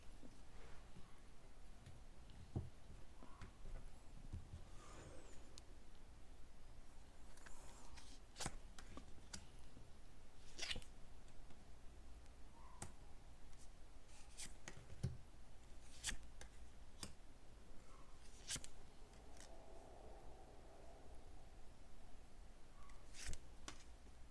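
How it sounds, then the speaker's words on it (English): A deck of tarot cards being shuffled by hand, a faint, close run of soft riffling flicks and scattered card taps in a quiet room, with no talking. "I've already shuffled my cards, but I'm going to give them another quick go round here."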